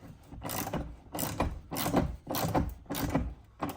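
A StackTrax wall mount's fasteners being tightened, the ratcheting clicks arriving in steady bursts, each turn pausing briefly before the next, close and fairly loud with no talking.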